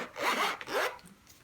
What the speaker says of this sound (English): Let's see how it zips up